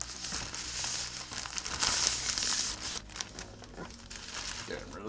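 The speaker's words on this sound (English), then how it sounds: "here we have the tablet itself in a protective plasticky foam. So let's go ahead and open this up." A drawing tablet is pulled free of protective plastic foam, giving continuous close crinkling and rustling that swells and fades over several seconds, with a voice speaking at times.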